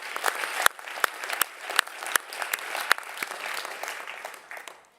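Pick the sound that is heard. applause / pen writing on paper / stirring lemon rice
applause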